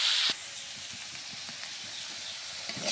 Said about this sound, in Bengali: মিষ্টি কুমড়োর ভাজাটা কড়াই দিয়ে নাড়াচাড়া করছি।